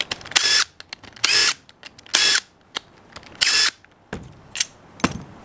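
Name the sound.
removing M8 cap screws from Rotax DD2 gearbox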